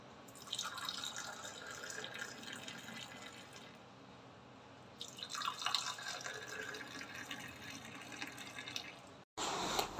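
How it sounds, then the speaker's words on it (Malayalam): Water is poured into a mixer jar while making oats dosa batter, a soft trickling stream that runs for a few seconds, pauses, then flows again before a brief louder splash at the end. "പിന്നെ വെള്ളം ഒഴിച്ചു കൊടുക്കാം."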